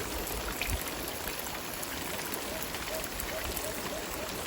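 Water sprays from a hose in a steady, even hiss like rainfall, continuous and moderately faint throughout.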